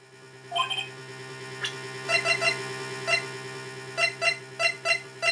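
A telephone rings in the Phoenix Wright: Justice for All courtroom video game, a synthetic electronic trill repeating in short bursts with a steady game music drone beneath it and no talking.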